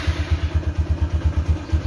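A 2010 Honda Mega Pro motorcycle's electric starter cranks close by, a rapid, even pulsing churn of about seven beats per second for under two seconds.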